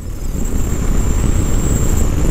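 A 2021 Indian Chief Bobber Dark Horse motorcycle riding along a rough road, a loud steady engine rumble with wind buffeting and a faint constant high whine, no voices.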